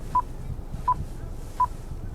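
Three short electronic dialing beeps from an Acura car's touchpad, evenly spaced about three-quarters of a second apart, over a low background hum.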